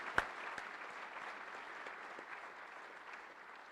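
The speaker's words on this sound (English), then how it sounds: "Let's give them and our salute battery and those who have supported this a great round of applause" An audience applauds at an outdoor US Army Recruiting Command launch ceremony with a salute battery present, a steady, faint wash of clapping heard from a distance, with one sharper clap near the start.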